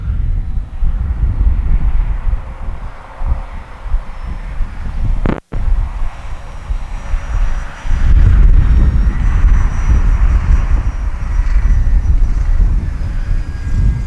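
A small FMS Pilatus RC model plane engine droning at a steady moderate buzz at half throttle, with wind buffeting the microphone and a brief dropout partway through.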